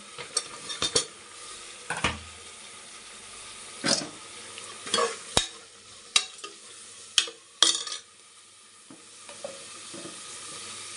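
Onion already reddened, with mint, coriander and green chilli, frying in a pan for egg biryani; a soft sizzle runs under repeated stirring scrapes and clinks of a spoon against the pot, with no talking.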